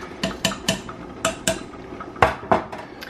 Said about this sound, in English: I'm getting ready to fill these jars